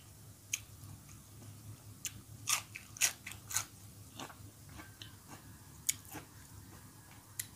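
Crunchy bites and chewing of a Thai mussel miang wrap served with a peanut dipping sauce, a series of sharp close crunches spread across a quiet room with no talk.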